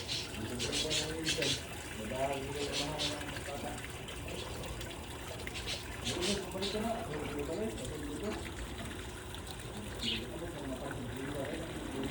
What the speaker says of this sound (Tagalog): Ang daga ng tubig dito.